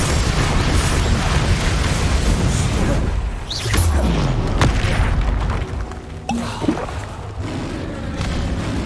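In the video game Hogwarts Legacy, the Bombarda spell sets off a loud booming explosion amid dense, continuous combat noise.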